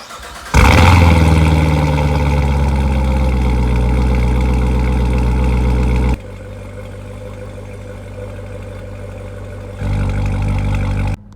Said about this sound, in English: we're gonna start up the Corvette Z06 and it is pretty loud